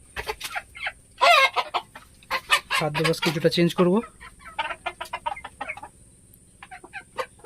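On a small home farm, hens and a rooster fed rice mixed with paddy cluck loudly and close, with a drawn-out crowing call in the middle. A person talks over the birds.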